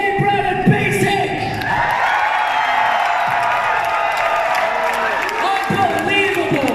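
A large crowd at a Bronycon 2019 concert cheers and applauds loudly and steadily, with music thumping underneath.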